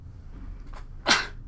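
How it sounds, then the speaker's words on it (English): One sharp sneeze from a chemistry lecturer bursts out loudly and close, preceded by a faint intake of breath against a quiet room background. "I had to sneeze there."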